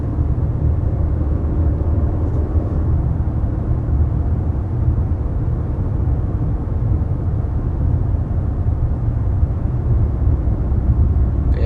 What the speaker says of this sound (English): I definitely can confirm this is a very quiet vehicle.